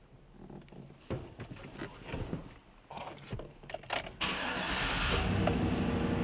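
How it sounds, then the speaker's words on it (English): 2013 Chevrolet Silverado pickup starting: a few seconds of clicks and cabin noise, then the starter cranks briefly and the engine catches into a loud, steady idle. "Let's hop in and start it up."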